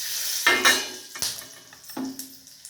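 Whole garam masala, bay leaf and black pepper sizzling in hot oil, a close crackling hiss punctuated by several sharp clinks and scrapes of a utensil against the pan.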